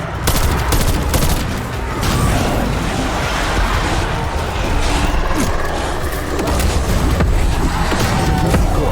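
Rapid, continuous automatic gunfire blasting at zombies in the Call of Duty Outbreak mode, dense and loud throughout with overlapping bursts and booms.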